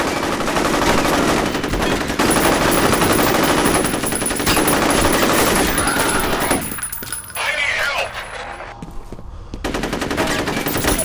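Sustained rapid automatic gunfire in the first-person shooter F.E.A.R., loud and dense for most of the stretch with a brief thinner lull before the barrage resumes.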